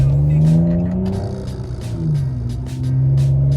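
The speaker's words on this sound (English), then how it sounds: "Ooh, little crackle and pop." A car engine burbles and revs up and down in close, loud swells, with sharp crackles and pops from the exhaust scattered through the rise and fall.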